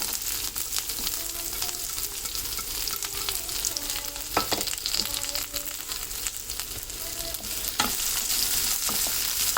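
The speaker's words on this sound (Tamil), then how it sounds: "இதை நல்லா வதக்கிக்கோங்க" Small onions and chopped large onion sauté in hot oil in a pan, a steady close sizzle with occasional scraping stirs of a spoon, for a Tamil keerai poriyal stir-fry.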